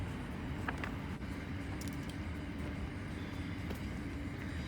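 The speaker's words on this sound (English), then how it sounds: "there's a train going through there" A train rolls through at a steady distance, its low continuous rumble filling the whole stretch with no break or clear approach, occasional faint clicks sitting above the drone; no one speaks.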